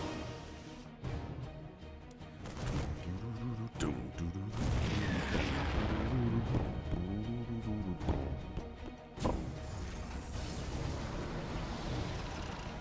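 Siege tanks fire in a StarCraft 2 match on Pride of Altaris, heavy booming shots and explosions layered with game effects and mechanical whirs, several impacts rolling through a dense, loud battle mix.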